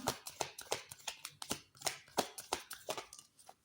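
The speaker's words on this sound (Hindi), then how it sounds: "For career, I will take 2 cards for you." Tarot cards being shuffled and drawn: a quick series of soft, close card flicks and slaps in an uneven rhythm, faint and with no talking.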